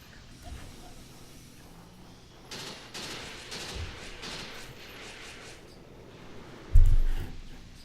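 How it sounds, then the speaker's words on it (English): Enemy tanks in the wargame Graviteam Tactics firing from a distance, faint rumbling volleys rolling through the middle of the clip before one heavier close thump near the end. "we could see the enemy tanks firing away"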